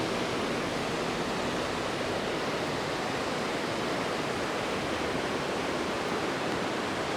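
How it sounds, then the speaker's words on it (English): A constant, loud rush of fast-flowing river water, a broad roar that never lets up. "The water's going pretty fast."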